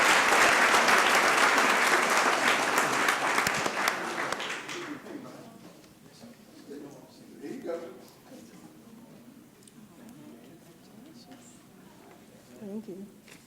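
Applause from a city council meeting audience, full and steady for about four seconds before fading out, followed by quieter talking in the room.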